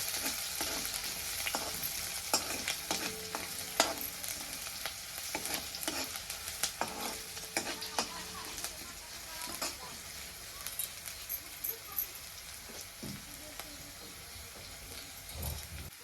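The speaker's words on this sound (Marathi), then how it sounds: "त्यातच आता अद्रक लसूण पण टाकून घेणार आहे आता आपल्याला ह्याला लाल होऊ द्यायचा चांगलं तळून घ्यायचं तेलामध्ये" Ginger and garlic fry in oil in a pan, a soft, steady sizzle with frequent sharp clinks and scrapes of stirring that thin out toward the end.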